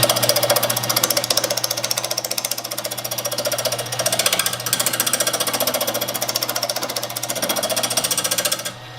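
A wood lathe turns a bowl while a scraper moves back and forth across it, making a rapid, even chatter over a steady motor hum. The sound is close and continuous, then softens right at the end.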